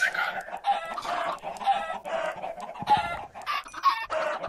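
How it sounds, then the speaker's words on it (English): Several Minecraft chickens cluck and squawk in quick, overlapping bursts, fairly close and steady throughout, with no other sounds standing out. "There are a lot of big chickens down here."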